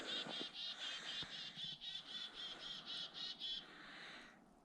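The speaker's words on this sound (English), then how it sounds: "Oh, there's a bird." A bird calls from overhead in snowy woods, a rapid series of about a dozen evenly spaced bright chirps, clear and close, then stopping abruptly into quiet outdoor ambience.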